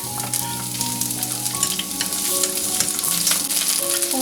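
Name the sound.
onion stir-frying in hot oil in wok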